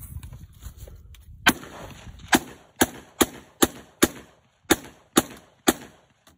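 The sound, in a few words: gunfire from a 3D printed AR-15 rifle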